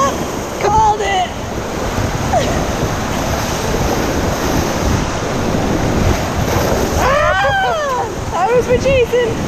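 Whitewater rapids on the Middle Fork of the Salmon River roar steadily as a raft drops through waves, with wind buffeting the microphone and excited voices shouting over the rushing water.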